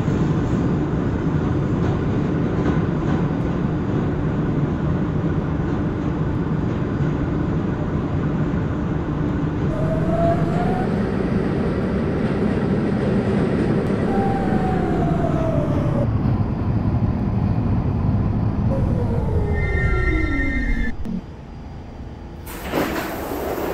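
R46 subway car on an E train running along the tracks, a steady loud rumble and hum throughout with rising and falling whine tones as it moves, ending with tonal chime-like notes near the close.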